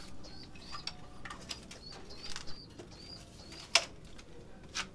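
Young squab pigeons cooing in soft repeated calls with brief bursts of wing flapping, close by against a quiet background hiss.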